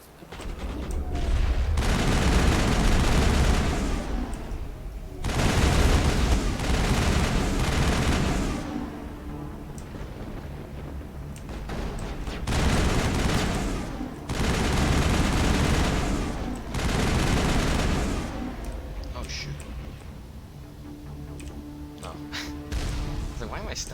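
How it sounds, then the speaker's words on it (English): Loud bursts of turret gunfire in the Mass Effect game on Virmire, coming in repeated sustained volleys with brief lulls between them and heavy low rumble throughout. "That turret could punch some nasty holes in them."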